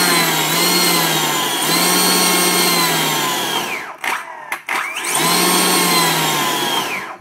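A Makita DUC356Z cordless chainsaw runs with a loud, steady electric whine, stops briefly with a couple of short bursts, then spins up again to full speed.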